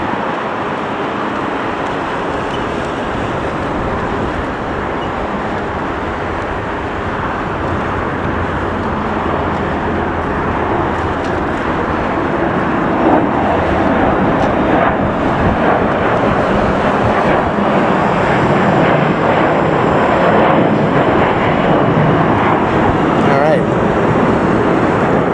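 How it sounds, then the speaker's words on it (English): An American airliner taking off at LAX airport gives a steady, broad roar that swells and grows louder around the midpoint, holding a strong, distant rumble throughout without clear speech. "is that an American that's getting ready to take off down there? So here we go. Here's the takeoff."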